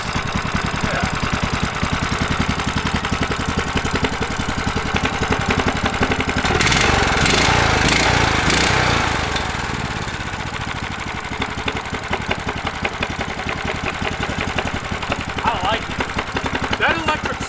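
A cheap 18 HP Temu engine fitted to a go kart is cranked and runs with a steady rough chug, briefly revving louder midway before settling back to idle, with people talking over it.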